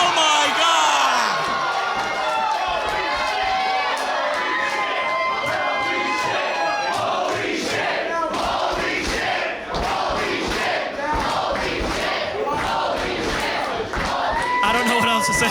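A wrestling event crowd roars and shouts continuously, loud and dense with whoops and cheers, voices overlapping throughout.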